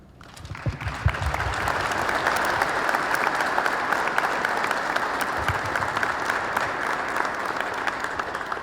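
An audience breaks into loud, sustained applause to welcome President Carter at an Ohio State ROTC event, the clapping swelling quickly and holding steady.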